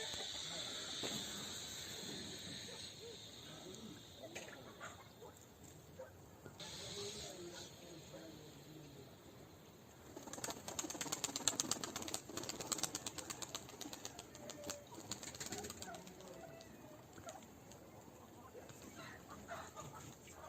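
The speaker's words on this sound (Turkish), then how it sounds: "Altına şu anda kuşlarımızı açtım arkadaşlar." Pigeons released from a rooftop loft take off together, a burst of dense fluttering wing claps and rustling at close range, with cooing and clucking calls and people talking throughout.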